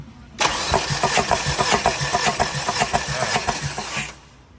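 A Tata CNG car engine cranks on the starter during a compression test, with a rapid, steady chugging that holds from start to finish without catching. It is close and loud.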